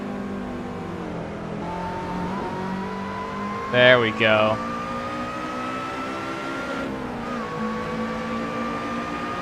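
A supercharged Lotus race car engine in the racing game Assetto Corsa holds a steady rising drone with a whining pitch, one brief louder burst of engine noise midway, and someone talking over it.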